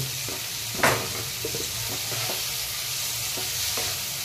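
Dried loitta fish fries in a pan, a loud continuous sizzle broken by scraping stirs and clinks, with a sharp knock near the start.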